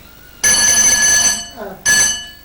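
A mine shaft cage signal bell at Hannans North mine rings loudly twice, each a sustained metallic ring, with a short gap between them and a faint voice in that gap.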